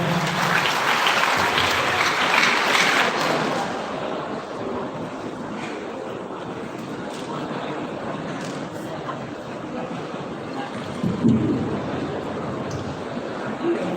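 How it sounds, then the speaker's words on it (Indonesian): An audience claps for the mayor at a university community-service program briefing in Palembang, loud applause at the start that thins and fades over several seconds, with faint murmuring and a few scattered claps after. "Tepuk tangan untuk Bapak Wali Kota."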